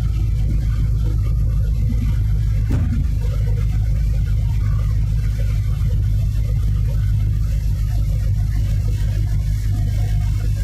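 A truck on the mountain stretch of I-40 West in Tennessee downshifting on its own to 11th gear, a loud, steady low engine drone with a brief shift transient, heard close from inside the cab.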